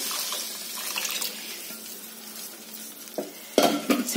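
Homemade Telangana-style rasam being poured into a cooking pot, a wet liquid splash and sizzle with stirring, building to a louder pouring burst near the end.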